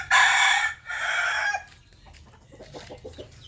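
A rooster crows twice loudly and close, followed by softer rapid clucking from chickens.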